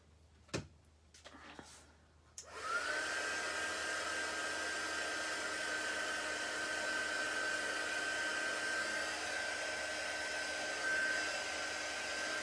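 An embossing heat tool heat-sets crystal clear super-fine embossing powder on a stamped journal page: a few soft clicks and handling noises, then the tool switches on into a loud, steady blowing whir with a constant whine that continues to the end.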